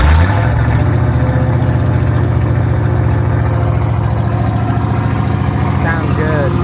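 A truck with a newly installed exhaust starts up and settles into a loud, close, steady idle, its deep rumble continuing unbroken for several seconds.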